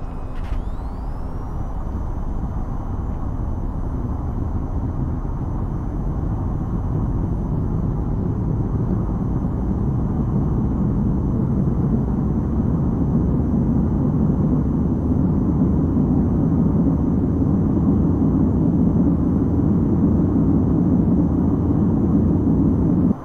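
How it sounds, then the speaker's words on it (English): An aircraft on runway 1-2 takes off in a loud, steady low roar of engines and rolling wheels that builds slightly over more than twenty seconds, with a brief metallic clank at the start. "getting ready to begin our takeoff down runway 1-2"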